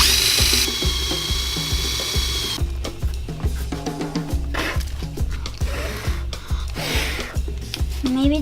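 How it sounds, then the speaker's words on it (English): A power drill whirs in short bursts while a toy boat is built, with rhythmic mechanical clicking and a buzzing motor under a person's talk, close by. "now grab the drill"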